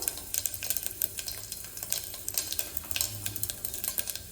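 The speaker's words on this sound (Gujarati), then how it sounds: "આપણે એમાં મીઠો લીમડો નાખશું અડધી ચમચી જેટલું જીરું નાખશું ચપટી જેટલી હિંગ નાખશું" Curry leaves, cumin seeds and a pinch of asafoetida sizzle in hot oil for a potato curry, a steady close crackle with bursts of sharp popping spitting throughout, no voices.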